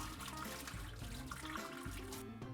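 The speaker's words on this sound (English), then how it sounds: "I'm going to drain off the water into the sink." Hot cooking water from boiled sweet potatoes poured off into a kitchen sink, a steady close splashing gush that runs continuously and fairly loud, with no talk.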